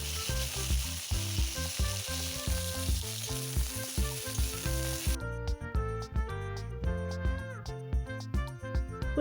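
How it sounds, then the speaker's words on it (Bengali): Cauliflower florets frying in oil for a Bengali fish curry, a steady sizzle with repeated stirring clatter, close and fairly loud, with no talking. "ফুলকপিগুলোকে ভালোভাবে তেলে নেড়ে ঢাকা দিয়ে দিয়ে ভেজে নেব।"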